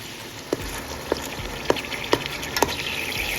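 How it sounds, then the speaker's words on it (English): Ground Italian sausage and turkey browning in a pan for lasagna roll-ups, a soft steady sizzle broken by several sharp scraping taps from stirring. "So let me go ahead and brown up this meat."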